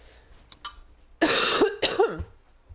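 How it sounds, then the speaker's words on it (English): A few harsh, throaty coughs close to the mic, preceded by faint small noises, in a quiet room. "When I move a lot, I cough more."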